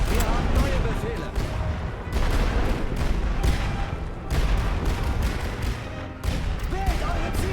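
Rifle volleys crack in repeated bursts, close and loud, with shouted German commands in between, in the First World War trench game Great War Western Front.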